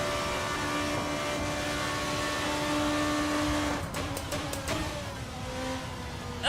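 Steady, droning race car engine in Assetto Corsa, holding a sustained tone before shifting and stuttering as the revs change, moderately loud and heard alone.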